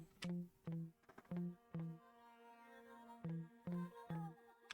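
Clean, dry guitar notes without an amp simulator, plucked in a short rhythmic pattern, each tone decaying quickly with small gaps between phrases.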